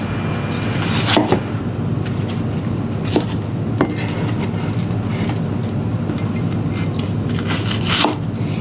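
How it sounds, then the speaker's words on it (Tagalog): Knife halving a whole onion for soup, several sharp clicks and cuts against a board standing out over a steady loud background rumble. "Gamitin na natin tong isang buong sibuyas na to. Hatiin lang natin ng ganyan."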